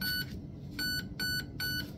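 Raven Evolution Furion electronic trigger unit on an airsoft gun emitting four short, high electronic beeps in a quick, slightly uneven sequence over a low background hum, close and clear, with no talking.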